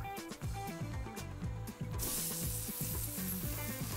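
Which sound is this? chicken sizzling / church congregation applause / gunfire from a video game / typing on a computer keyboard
chicken sizzling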